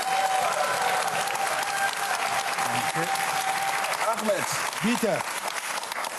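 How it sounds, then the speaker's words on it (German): Studio audience applause greets a contestant on a German television cooking show, steady broad clapping throughout while a voice speaks briefly over it. "Großen Applaus für Ahmed"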